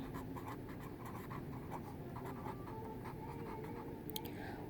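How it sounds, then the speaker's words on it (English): Marker or chalk writing on a classroom board, steady scratchy strokes running continuously at moderate level with no talk over them. "let's write that"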